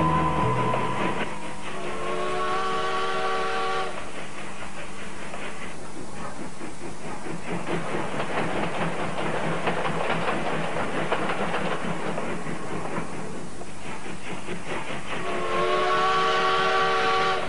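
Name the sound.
old steam locomotive pulling a train wagon, with whistle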